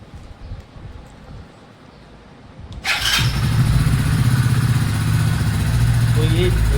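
A Hero Splendor motorcycle in neutral starts up after a quiet lead-in, its engine catching abruptly and settling into a loud, steady, close-up idle chug.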